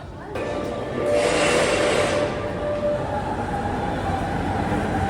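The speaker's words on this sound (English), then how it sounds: "here we are on U1 line, last one of today's metro." Interior of a U1 line metro train running on rails: a steady loud rumble and hiss of the carriage in motion, with a brief rising whine, voices faintly present beneath.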